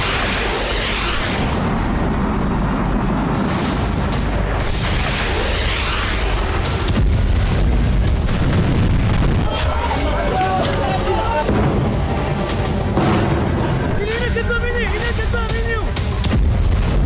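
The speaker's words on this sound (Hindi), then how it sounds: "बौखलाहट में इजराइल ने भी लेबनान में हवाई हमला तेज कर दिया है।" Heavy booming blasts from Israeli airstrikes on Hezbollah targets in Lebanon, loud and dense, rolling continuously with crackling impacts, under voices talking.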